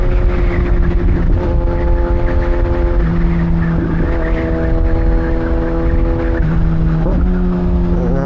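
A 1000cc big bike with a quick shifter and auto blip rides loud and steady, its engine tone stepping through gear changes at a few clear points while road noise fills the background.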